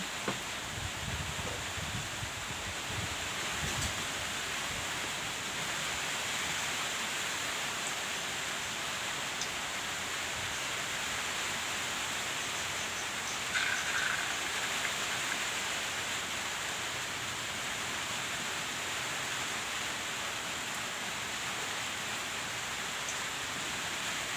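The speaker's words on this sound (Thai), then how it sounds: "เห็นฝนมา" Steady rain falls continuously for the whole stretch as a soft, even hiss, fairly faint and unbroken, with no voices.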